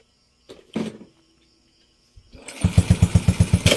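A Honda Wave 125 motorcycle engine starts after a top overhaul and cylinder head replacement: a few brief mechanical clicks and a short crank, then the small single-cylinder engine catches and idles in a close, rapid, even putter.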